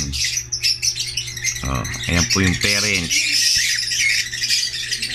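Quality pet birds kept for sale squawk and chirp in a dense, continuous chorus, near and loud, with harsh repeated calls layered over constant high twittering while someone talks over them.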